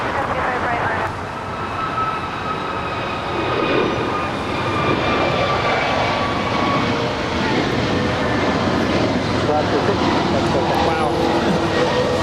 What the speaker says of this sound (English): That was Alaska Flight 6 departing to Washington National, a 4-year-old Airbus A321 Neo.